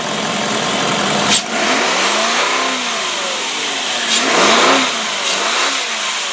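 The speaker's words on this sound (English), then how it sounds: "Let's see if I can rev it up without getting my finger caught." A V8 engine in a 2004 Cadillac DeVille sedan revving repeatedly, rising and falling in pitch several times, loud and close with a deep rumble throughout.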